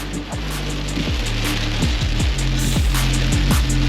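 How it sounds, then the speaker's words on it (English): Heavy rain drumming steadily on a Chevrolet Silverado 1500 van, a constant close hiss under a low engine-like hum, with no talk. "People are driving with their hazard lights on just because it's raining so much"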